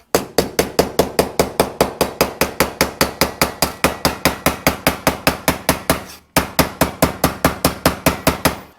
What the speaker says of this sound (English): kinda use a hammer and kinda smooth out the edges a little bit